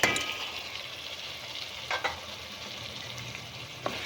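Half-cooked goat brain sizzles in a pan with green chillies, a continuous close frying hiss with a few soft clicks of stirring and no talk.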